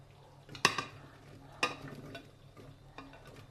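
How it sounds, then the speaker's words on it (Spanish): A spatula scrapes ingredients down the sides of a Monsieur Cuisine Connect food processor bowl, two distinct close scraping strokes with a fainter third, over quiet background. "Ahora con la lengua de gato lo vamos a bajar todo"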